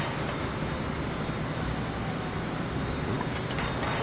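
A goods train runs in the Train Fever video game, producing a continuous loud rumbling roar with steady mechanical rattle throughout and no voices.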